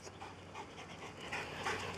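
A dog pants steadily and close by in a short stretch, quick rhythmic breaths running throughout at moderate loudness with no talk over it.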